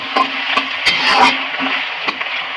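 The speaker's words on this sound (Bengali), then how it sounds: "পেঁয়াজ আলু বেশ ভালোই ভাজা ভাজা হয়ে গেছে" Onions and potatoes fry in a pan with a soft sizzle while a utensil scrapes and knocks against the pan in irregular strokes, close and fairly loud.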